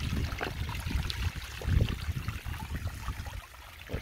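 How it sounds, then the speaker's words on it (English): Water trickling from a bubbler fountain in a backyard pond, a steady soft splashing and dribbling close by, continuous and fairly quiet with no talking. "I love that water bubble right there."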